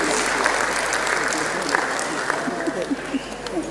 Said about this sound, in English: Please, a round of applause for the governor.